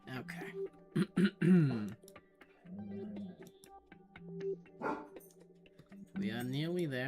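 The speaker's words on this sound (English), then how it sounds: "Yes, puppies bark." Cartoonish puppies yap and bark in short bursts within a video game, heard alongside overlapping chatter and a throat clearing, fairly quiet overall.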